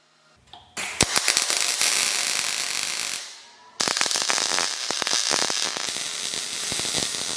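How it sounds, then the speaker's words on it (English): Welding a steel nut onto a pipe while building a welding stand produces a close, loud crackling and sizzling arc in two long bursts separated by a brief pause, with sharp pops throughout. "I'm welding a nut to the pipe so I can screw a bolt through the nut and hold the bracket in place."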